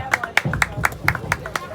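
Clapping at a rubber ball cricket tournament ceremony in Khar Danda, with sharp irregular claps rising over a murmuring crowd for a couple of seconds.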